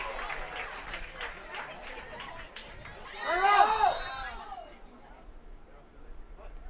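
Crowd at a girls' lacrosse championship game cheering and clapping, rising into a loud burst of applause and shouts that swells for about a second before fading back into steady background chatter.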